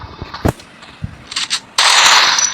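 Gunfire in the mobile shooter Free Fire Max: sharp single shots and short bursts, then a loud, dense rattle of automatic fire that runs to the end.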